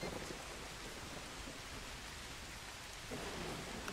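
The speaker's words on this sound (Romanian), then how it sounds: "Zici că de aici vine ploaia, așa se aude." Steady rain hiss in a video game, a dense, even wash of falling water heard alone at a soft level throughout, with a slight shift in texture near the end.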